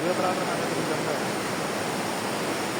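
A mountain river (khola) at Galkot Gaighat rushes in a continuous broadband roar, close and steady for the whole moment.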